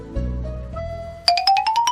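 A notification bell ding rings out, a low tone followed by a quick bright run of rising chime strikes, close and clear with no talk.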